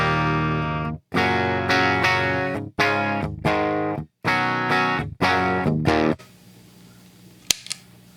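Clean electric guitar played through a Seymour Duncan Palladium gain stage preamp pedal with the knobs at noon, strummed chords in several ringing bursts with short gaps, then a quiet tail and a couple of faint clicks.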